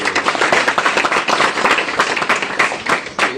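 An audience at an ITI institute gathering claps in loud, close, uneven bursts of hand claps that ripple continuously without a pause.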